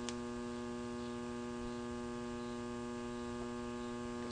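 A freshly wound custom power transformer, powered up, gives off a steady, even mains hum with a faint buzzing edge that holds unchanged throughout, quiet and alone.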